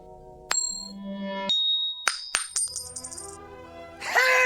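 A single coin is flipped with a ringing ting, then lands and rattles, settling in a short series of metallic clinks and a brief wobble, close and clear as a radio drama sound effect, followed by a rustle at the end.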